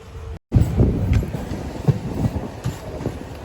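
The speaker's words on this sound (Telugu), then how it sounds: "మన ట్రైన్ రైట్ టైంకి మళ్ళీ భీమవరం జంక్షన్ నుంచి అయితే మూవ్ అయిపోతుంది." A MEMU train moves off from Bhimavaram Junction, its rumble loud and close, with rhythmic clicks of wheels over rail joints after a brief gap at the start.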